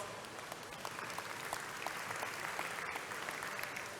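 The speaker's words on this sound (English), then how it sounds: "Can we give him a round of applause?" An audience at a book launch applauds the Secretary General of ACRP, a soft, continuous patter of many hands heard from a distance that stays even throughout.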